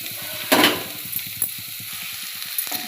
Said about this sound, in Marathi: भाजी व्यवस्थित परतून घ्यायची आहे फोडणीमध्ये